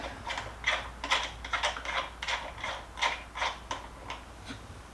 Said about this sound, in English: Screw in the bolts.